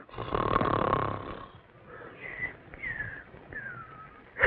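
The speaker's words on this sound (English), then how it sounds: "Either stop snoring or cover your head with pillows." Loud, rasping snores follow one another, a heavy first one and then several shorter wheezing ones, close and alone.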